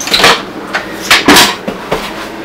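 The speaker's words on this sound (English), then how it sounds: "So I would open this, and I would open the door" Cabin entrance door of the sailboat SV Triumph being opened, heard up close as a quick series of sharp knocks and clunks with brief pauses between them.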